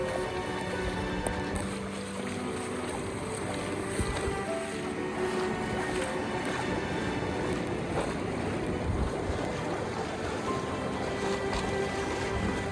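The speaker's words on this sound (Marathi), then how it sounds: "खतरनाक असं पाणी आहे." A loud, steady roar of the flooding Indrayani River near Pune rushing past, with gusts of wind buffeting the microphone, continuous throughout and no voices.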